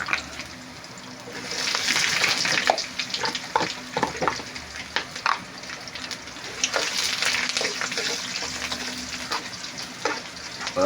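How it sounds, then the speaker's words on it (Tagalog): Tulingan fish sautéing with garlic, ginger and onion in a pan hisses loudly, with repeated sharp stirring scrapes and clacks over the sizzle and no talking. "Ngayon, gigisa po natin siya."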